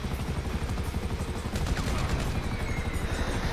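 Rapid bursts of automatic gunfire from a weapon in Grand Theft Auto V, a dense rattling stream of shots that runs steadily throughout, loud and close with no talk.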